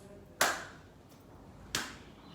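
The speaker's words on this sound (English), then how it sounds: "Hand claps." Two sharp hand claps, a little over a second apart, crisp and close in an otherwise quiet room.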